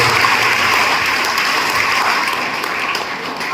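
Audience applause at a church silver jubilee celebration, a dense, sustained round of clapping from a large crowd that stays loud and steady throughout.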